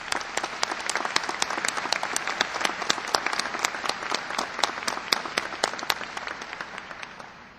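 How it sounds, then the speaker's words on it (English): Audience at a 2007 graduation ceremony applauds, a brisk, even patter of many hands with sharp individual claps standing out, tapering off gently at the end. "Let's give them a round of applause."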